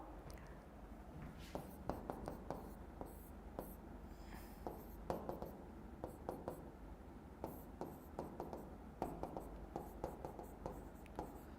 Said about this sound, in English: I am writing this compound.